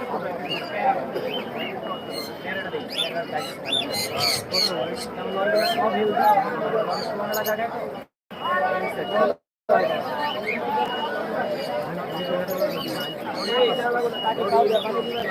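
African parrots chattering and squawking at a bird market in Mirpur, with continuous bird calls mixed with crowd babble and someone talking, interrupted by two brief dropouts.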